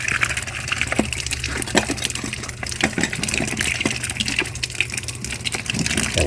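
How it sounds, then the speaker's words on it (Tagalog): Eggplant, mussels and squid are rinsed by hand in a basin of water, with continuous sloshing and splashing punctuated by clicks and clatters of shells knocking together, fairly close and quiet. "So, babad natin siya sa tubig."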